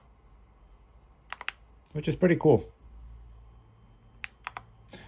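Keys on an EPOMAKER x Feker Galaxy80 TKL mechanical keyboard are pressed in a few sharp, crisp clicks, scattered before and after a short stretch of someone speaking close by.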